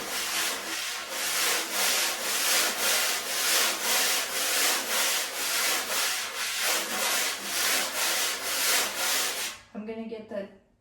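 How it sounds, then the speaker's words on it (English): Jazz brushes sweeping a swing pattern on a snare drum, with steady rhythmic swishes from close by for about ten seconds, then a voice begins talking. "let's pretend we're going to play the swing pattern"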